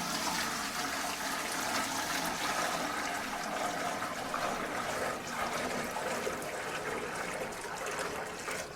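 Maple syrup poured from a bucket into a filter produces a continuous liquid splashing and trickling sound, steady and moderately close, lasting throughout without talk.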